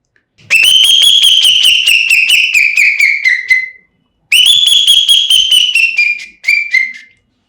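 Close, loud whistling imitates a calling bell with rapid warbling trills, two long falling phrases followed by a shorter one.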